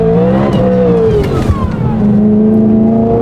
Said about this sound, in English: This is my genuine first time driving a Supercharged M3.